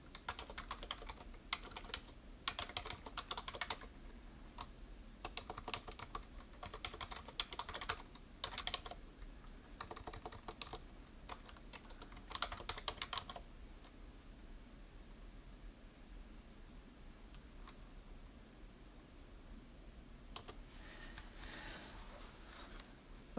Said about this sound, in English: I'll type it out for you